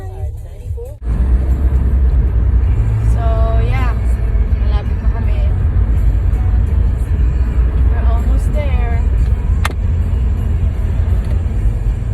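A car in motion, heard from inside the cabin as a steady low road rumble that starts after a brief quieter moment and holds evenly to the end, with faint voices mixed in.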